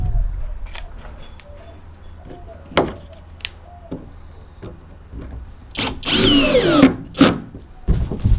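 A power drill driving screws into curved wood sheathing on a vintage-style wood camper, in short bursts of whirring with sharp knocks and thumps between them, growing louder and denser toward the end.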